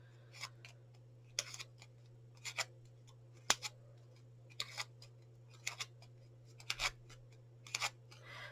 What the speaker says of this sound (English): I'm just going to use my scissors with much more control.